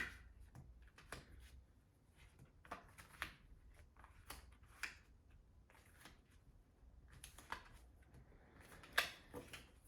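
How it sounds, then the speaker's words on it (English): A deck of tarot cards is shuffled in quiet, irregular bursts of soft riffling and tapping, with brief pauses between each close, crisp flurry. "I'm gonna do some really good shuffle"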